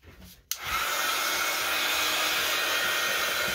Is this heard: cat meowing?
no